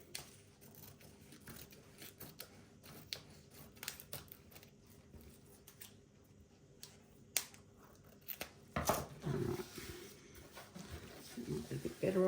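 Scissors snip and crinkle through thin foil for a resin gel tint craft, quiet rapid cuts and rustles scattered across the stretch, growing louder and denser near the end.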